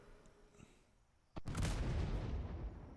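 A ship's cannon fires in a naval video game with a sharp crack followed by a long, loud rumbling boom that fills the rest of the moment, while faint game ambience sits underneath before the shot.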